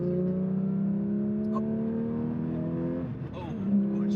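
A manual Porsche 992 GT3 sports car engine hums steadily, then revs up sharply near the end, loud and close, in the Alps.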